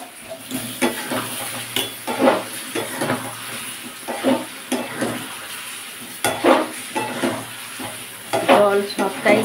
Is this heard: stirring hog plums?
yes